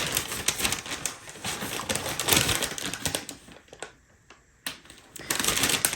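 Wrapping packaging is crinkled and rustled by hand: loud, close bursts of crackling plastic or paper that come and go, with a couple of short quiet gaps before the rustling picks up again.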